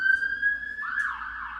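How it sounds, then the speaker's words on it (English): An ambulance siren wails steadily, loud and close, its tone dropping and wavering partway through as if the vehicle passes, heard alone without speech. "The ambulance."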